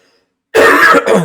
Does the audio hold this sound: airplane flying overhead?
no